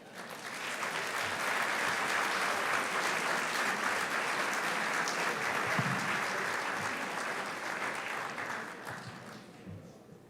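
Sustained applause from an award dinner audience, a dense wash of clapping that swells in, holds steady for several seconds and then tapers off near the end.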